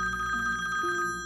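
A telephone rings in a Pakistani TV drama scene, a steady bright electronic trill held for about a second, clear and close with no talk over it.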